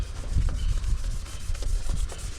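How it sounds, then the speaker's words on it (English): Hand sanding on a 1963 car body, a steady rough rubbing scrape with repeated strokes, close and continuous with no talking. "I was tired of sanding on the Jeep, so we decided we'd sand on the 63."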